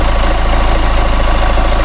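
A 2.8-liter four-cylinder Duramax turbo diesel in a Chevrolet Colorado or GMC Canyon idles close by with a loud, steady, low rumble and a rhythmic diesel clatter that never changes pace.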